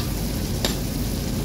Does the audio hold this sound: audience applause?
no